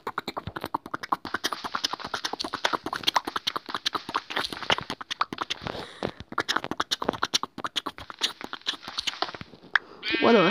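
A sheep bleats in the Minecraft video game amid a fast, steady run of sharp percussive mouth clicks from someone beatboxing, with a voice rising briefly at the end.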